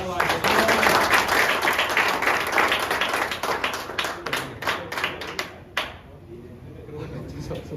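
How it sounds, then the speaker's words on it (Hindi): A crowd applauding at a tournament trophy distribution, dense clapping at first that thins into scattered individual claps before fading out. "तालियां बजाओ भाई।"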